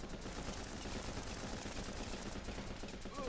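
Rifle fire in the war game Running With Rifles: steady, rapid bursts of shots run through the whole stretch, faint and somewhat distant, with no clear gaps between them.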